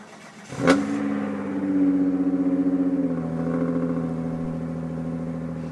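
A car engine cranks and catches with a sharp burst, then settles into a raspy, throaty idle with a steady pulsing exhaust note, recorded on a phone at close range.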